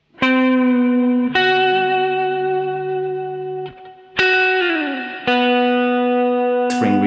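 NUX Cerberus multi-effects pedal with boost switched on for a lead guitar part, playing loud sustained bright distorted notes in a few long phrases with sliding bends and reverb tails, no talking.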